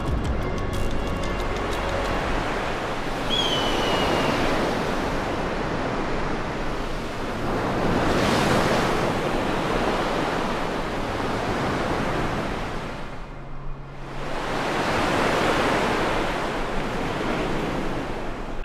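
Ocean waves break and roll at Petrel Cove, South Australia, a loud continuous roar of surf swelling and easing in long surges, with wind rushing across the microphone.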